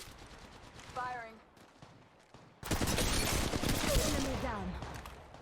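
Automatic gunfire in the Apex Legends Mobile video game, a sustained rapid burst of shots in the second half, with a voice talking over quieter game sounds before it.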